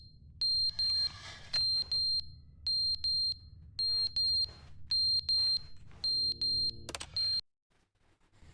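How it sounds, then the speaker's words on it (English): A regular, repeating high electronic alarm beeps in short paired bursts with steady gaps in The Stanley Parable: Ultra Deluxe, running over a low background hum before cutting off abruptly near the end. "What's the beeping?"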